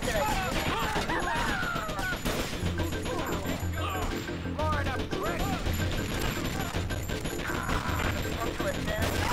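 Rapid gunfire in GTA Vice City during a rampage against gang members, dense bursts of cracks and crashes mixed with game music and effects throughout, with someone talking over much of it.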